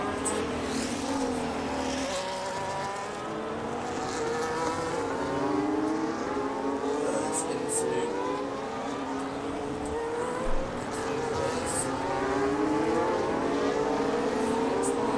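Formula 1 cars including an Aston Martin and an AlphaTauri Honda racing at the Hungarian Grand Prix in the F1 25 video game, multiple engines whining and shifting pitch continuously as they jostle for position, with brief commentary over them.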